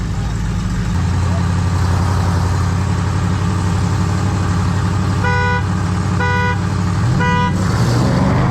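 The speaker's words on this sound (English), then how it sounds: "Oh, you can honk it." Three short horn honks from a Dodge Charger 392 Scat Pack in Mexico, close and loud over a steady rumbling engine, with a brief pause between each blast.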